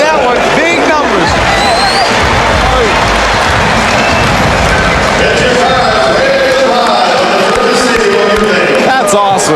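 A loud basketball arena crowd at the 2000 NBA All-Star Slam Dunk Contest roaring and cheering after a Steve Francis dunk, a dense sustained hubbub with whistles and an announcer talking over it.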